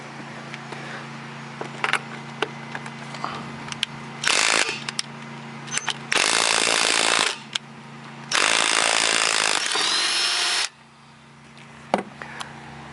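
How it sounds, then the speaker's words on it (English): An impact wrench loosens the lug nuts on a 2000 Chrysler Concorde wheel in loud, sustained bursts of hammering whir separated by short pauses, with metallic clicks between them. "taking off those lug nuts and removing the battery, removing the tire rather"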